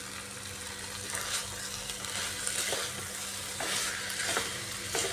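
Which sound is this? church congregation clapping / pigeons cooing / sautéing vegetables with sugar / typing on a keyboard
sautéing vegetables with sugar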